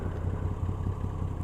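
A shaft-driven Moto Guzzi V85 TT motorcycle runs close by at a steady idle. A low throbbing engine note is layered with light clattering and barely changes from start to finish.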